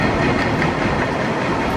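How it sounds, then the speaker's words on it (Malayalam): A train rumbles steadily through a large, noisy station, a dense broadband roar with faint rhythmic clatter beneath it. "വലിയ ട്രെയിൻ സ്റ്റേഷനാണ് ഈ കാണുന്നത്"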